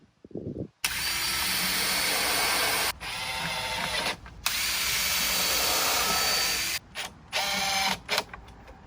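Power drill driving screws into wooden slats of a cheap DIY herb box, in several loud whirring bursts separated by brief pauses, close up with no talking.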